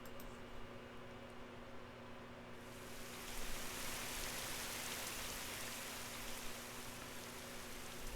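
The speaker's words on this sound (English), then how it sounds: "I can hear the rain." Steady rain hiss in the Fate/Grand Order game, quiet at first and then swelling into a fuller, even downpour that continues without pause.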